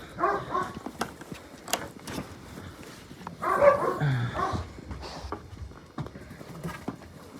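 Several dogs bark in short bursts at an animal shelter at feeding time, some near and some farther off, with clattering and scuffling noises between the barks.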